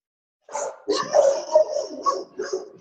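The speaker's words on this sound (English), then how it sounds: "I have 3 dogs and they come to work with me every day." Several dogs kept at a workplace bark in a quick run of sharp, close barks and yips after a moment of silence, with no talk.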